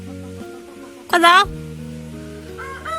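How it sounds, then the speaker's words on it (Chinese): A chicken in a rural mountain village in Guizhou gives one loud, brief crowing squawk close by. Someone speaks briefly, and a low hum runs underneath. "每天就跟这些鸡呀、鸭子啊为伴"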